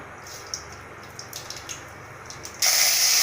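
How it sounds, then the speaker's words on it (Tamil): Mustard seeds splutter in heated oil for a Tamil tomato thokku: scattered sharp pops and crackles close in a quiet kitchen, then a sudden loud, steady sizzle takes over. "கடுகு நல்லா வெடிச்சு வந்துடுச்சு"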